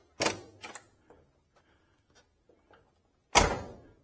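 Doors on a 1969 Oldsmobile 442 snap shut: two quick, solid latching clunks close together, then near silence with faint clicks, and a final sharp slam after a few seconds.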